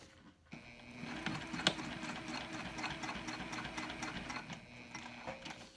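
A sewing machine top stitching cork fabric on a handmade pack runs steadily and close, a busy mechanical whir with rapid needle ticks that starts after a brief pause and continues without talk.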